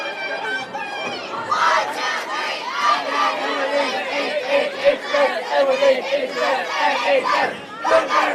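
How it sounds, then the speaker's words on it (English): A crowd of fans cheers and chants in an indoor hall at a girls' state bowling tournament, loud rhythmic voices shouting together in rapid bursts that swell and fall throughout. "That cheer is one I've never learned."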